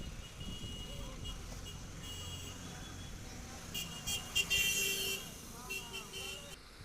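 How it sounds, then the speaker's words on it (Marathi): Traffic stuck in a long jam on the Nashik–Surat road, with a steady roadway rumble, scattered horns and electronic reversing beeps rising near the middle, while people seem to talk faintly in the background. "एकही गाडी पुढे जात नाही आहे एक ते दीड तास झाले इथे ट्रॅफिक लागून राहिला आहे"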